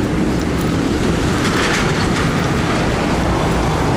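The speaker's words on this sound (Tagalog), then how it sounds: "Okay, so ayan yung MRT." An MRT train runs along an elevated rail line, making a loud continuous roar with rhythmic wheel clatter and rushing noise, close by and steady throughout, with no voices.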